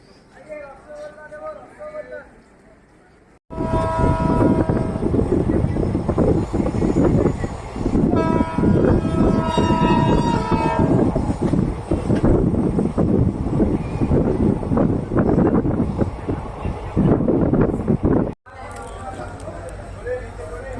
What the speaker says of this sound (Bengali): এই গাড়ি হর্ন দিয়ে দিয়েছে ছাড়বে এখন